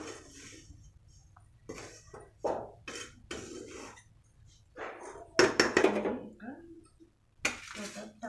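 A spoon stirs a sweet mixture of cow colostrum with cardamom in a metal pan, giving close, irregular clinks and scrapes in short bursts between stretches of quiet.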